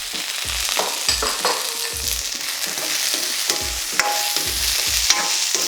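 Carrots and other vegetables for Thai vegetable fried rice sizzle steadily in a hot pan over lowered heat, with repeated scraping stirs of a spoon every second or so, close and fairly loud, no voices.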